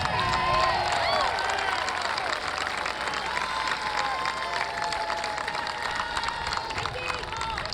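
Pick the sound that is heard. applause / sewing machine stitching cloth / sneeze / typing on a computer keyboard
applause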